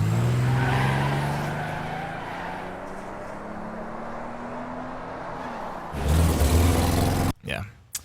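Car chase sound effects edited into a student film: roaring car engines rise in pitch as they pass, followed by a loud burst of squealing tires and a sudden crash-like impact, with the engines fairly close and dominant.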